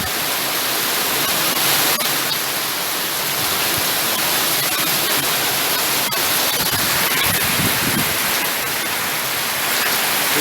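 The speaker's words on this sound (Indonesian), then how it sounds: "Hujannya cukup deras, angin bertiup kencang." Heavy first rain of the season with strong gusting wind, a dense continuous roar of broadband noise that stays loud and steady throughout without voices.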